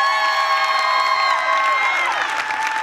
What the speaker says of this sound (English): let's give Jesus a great big round of applause.